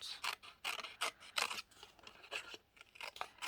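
Scissors snip repeatedly through paper in quick, uneven bursts, quiet and close, with short pauses between cuts.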